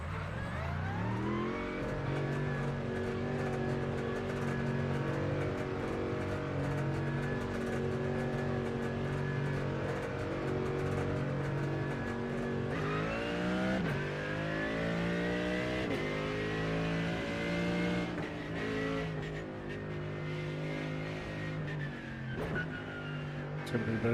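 Race car engine at Suzuka in a racing video game, loud and continuous, climbing through revs in long rising sweeps with gear changes, a sharp lift and drop around the middle before building again.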